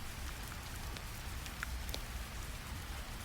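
Rain taps steadily on a roof, a soft, even patter with a few brighter droplet ticks scattered through it, continuous and moderately quiet with no voices.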